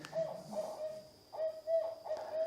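A barred owl gives its rhythmic 'who cooks for you' hooting call, a series of clear resonant hoots in two or three phrases, fairly close against a quiet background.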